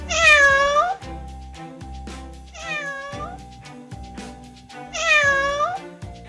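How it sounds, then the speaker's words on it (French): A cat meows three times, long drawn-out wailing calls spaced a couple of seconds apart over a faint background hum. "Les chats."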